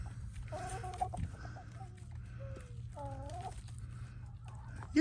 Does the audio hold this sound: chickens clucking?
yes